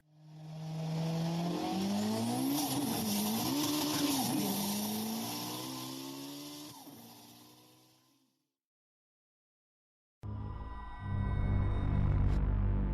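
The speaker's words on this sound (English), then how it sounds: "The Jeep tore off the road." Sound effect of a Jeep engine racing off the road: a loud revving engine that climbs and wavers in pitch, then fades to silence, followed by a sudden burst of rough motor noise at the end.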